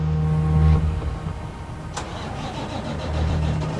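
A heavy truck weighing 75,000 pounds starts up after being trapped in deep snow. The starter cranks, the engine catches and settles into a low, close idle.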